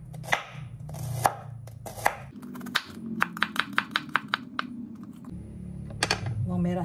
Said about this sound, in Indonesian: Bawang merah nih kita potong juga, kita iris ya, untuk menumis nanti.